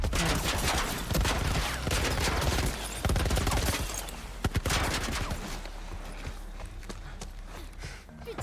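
Military turret gunfire in The Last of Us Part I: dense, continuous rapid bursts of shots layered with game noise, loud and sustained throughout, easing slightly toward the end.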